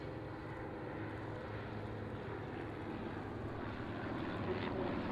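Aircraft running in to land, heard as a steady distant engine drone that holds at a constant low level throughout, with no talk over it.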